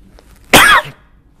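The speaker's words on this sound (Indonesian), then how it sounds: "Sampai batuk-batuk nih." A single harsh cough, loud and close, breaking a quiet background.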